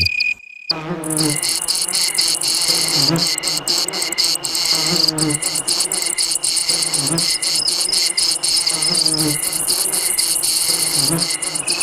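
Dense, continuous chirping of male crickets stridulating fills the air, a steady pulsing trill with rhythmic bursts, loud and close throughout with no voices.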